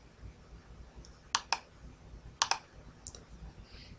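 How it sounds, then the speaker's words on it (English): A computer mouse clicks on a login button, giving two sharp paired click pairs, then a fainter third click, close and alone over quiet room hum. "We're going to click on login."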